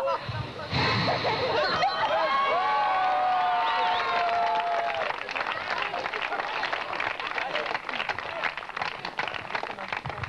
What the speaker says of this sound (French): je tiens à vous remercier encore beaucoup pour vos applaudissements